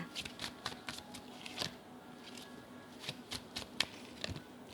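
Tarot cards are shuffled and drawn by hand, with quiet, close papery flicks and taps coming in irregular clusters throughout, and no talking.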